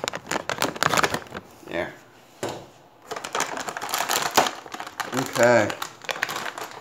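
Cardboard and plastic packaging of an EVGA Nvidia GTX 1060 3GB Superclocked graphics card being cut and torn open, with rapid crinkling, ripping and rustling in bursts and a voice speaking briefly.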